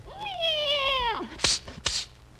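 A voice on a 1949 radio comedy imitates a cat, giving a long, drawn-out meow followed by a couple of short breathy sounds.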